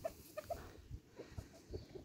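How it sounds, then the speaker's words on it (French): A gold-hackled hen clucks softly in a village poultry yard, giving a few short, faint clucks in quick succession over quiet background noise. "Donc les poules, vous voyez, celle-ci, c'est une camaille dorée, enfin cuivrée, ce qu'on appelle."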